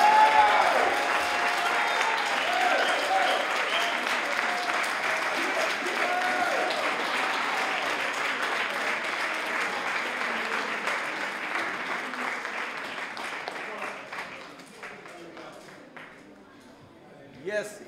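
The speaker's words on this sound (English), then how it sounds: "So I need everyone to just give your best round of applause for all of these." Sustained applause from an audience at a Cape Verdean Association Martin Luther King Jr. family event, cheering young people; dense clapping fills the room, then thins out and fades toward the end.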